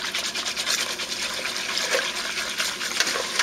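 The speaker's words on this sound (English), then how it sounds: "take the whisk and just start whisking it" A whisk churning mead must in a fermenting vessel to drive off CO2 and stir the yeast back up, a steady rapid swishing, sloshing liquid noise that continues close and unbroken throughout.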